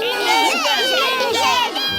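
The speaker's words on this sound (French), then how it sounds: "Et là, ils ont poussé des cris de joie." Animated characters shout with joy, a dense burst of overlapping high, excited cries like a cheering crowd of children, loud and close throughout.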